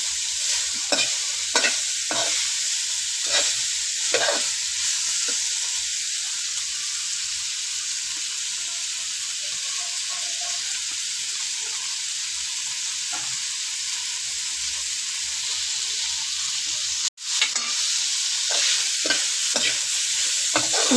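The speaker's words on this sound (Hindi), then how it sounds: "इसको भी हमने तकरीबन 2 से 3 मिनट करना है इसको फ्राई" Mixed vegetables for chicken spaghetti fry in a hot pan with a loud, continuous sizzle. Rhythmic stirring scrapes are heavier early on, and there is one abrupt cut near the end.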